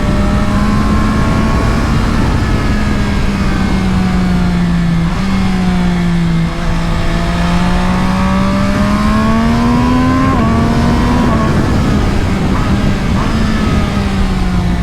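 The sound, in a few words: sport motorcycle engine accelerating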